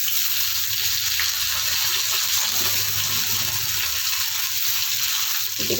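Pointed gourd (potol) pieces frying in hot oil make a loud, dense, continuous sizzle up close, with no voices.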